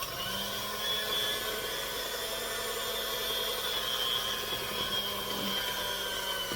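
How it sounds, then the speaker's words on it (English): Electric kitchen mixer whirring steadily through apple cinnamon bread batter, a loud continuous motor drone holding at an even pitch for the whole stretch with no pauses. "I don't like how loud my mixer is"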